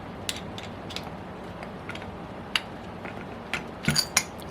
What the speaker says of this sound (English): And there's how you Extract the piston pin.